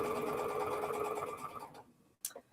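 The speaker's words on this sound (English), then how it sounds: "So we will sew the other seam on that one." Sewing machine stitching a seam on two-at-a-time half square triangle quilt blocks, a steady close whirring run that slows and stops, followed by a brief click.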